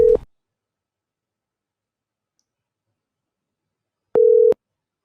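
A phone call rings out unanswered, with a short steady tone at the start and another about four seconds later, separated by silence, like a ringback tone before voicemail picks up.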